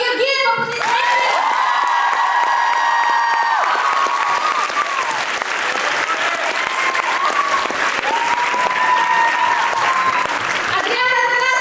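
A crowd at a street dance show applauds and cheers a choreographer being introduced, with continuous loud clapping under sustained shouts and whoops, and a voice over a microphone near the start and end.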